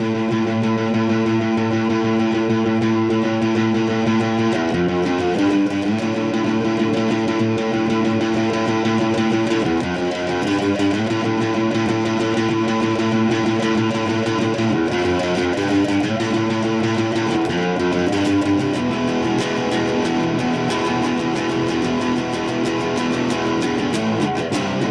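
A distorted electric guitar plays a repeating riff, chords shifting every few seconds in a steady, loud pattern with no voices.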